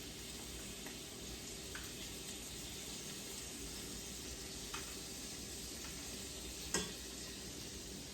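Bacon grease and butter sizzle steadily in a skillet, a constant close frying hiss with a few faint clicks and one sharper tap, alone without talk.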